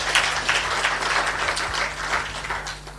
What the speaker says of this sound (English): A clap for him.